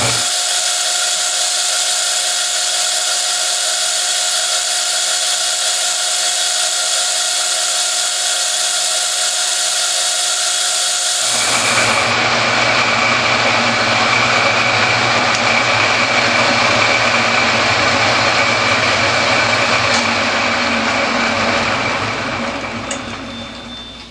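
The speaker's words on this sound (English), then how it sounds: "I'm going to try a coarser auto feed, and we'll take another 20 thou cut" Metal lathe taking a 20 thou facing cut on a crank pin held eccentrically in a 4-jaw chuck, coarser auto feed engaged; a steady loud machine whine and cutting hiss that shifts tone partway through, then tapers off.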